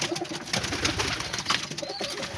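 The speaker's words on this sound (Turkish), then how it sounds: "Hepsi burada kuşların." Pigeons cooing close by, several soft overlapping calls with some fluttering and rustling, no talking.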